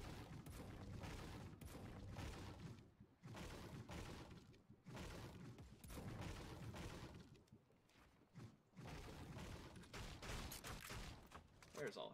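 Rapid bursts of gunfire in the Fortnite video game, clustered volleys and scattered shots mixed with breaking and impact sounds, fairly faint, with a player talking in between.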